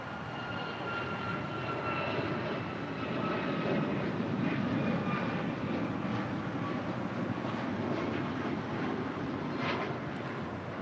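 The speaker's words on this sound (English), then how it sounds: "This is Alaska Airlines 1446 departing to Los Cabos on a MAX 9." Alaska Airlines Boeing 737 MAX 9 departing from LAX, a broad steady jet engine roar at moderate distance, sustained and slightly swelling with wind-like rush throughout.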